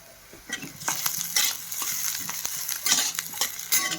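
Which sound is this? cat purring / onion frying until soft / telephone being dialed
onion frying until soft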